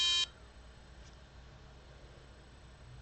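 Small electronic buzzer on a soldered surface-mount circuit board giving one short high-pitched beep at the start, then only faint background hiss.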